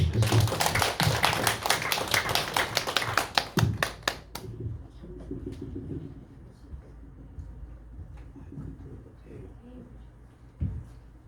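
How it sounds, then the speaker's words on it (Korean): A church congregation at a Korean Sunday morning worship service claps loudly and densely together for about four seconds. The applause then fades out, leaving a quiet room with faint murmuring and a single soft knock near the end. "박수로 맞이하도록 하겠습니다."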